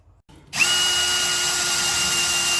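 A power drill bores a pilot hole for a towbar bracket on a Rover 45 car: a short click, then the motor spins up to a steady high-pitched whine that holds close and loud for a couple of seconds.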